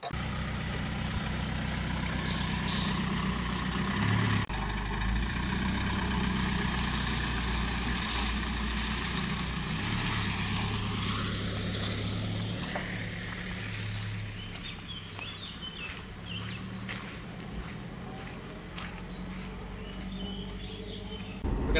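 A camper van cruising along a road in Portugal, giving a steady low engine drone and road rumble from inside the cab that softens slightly partway through, with no talking.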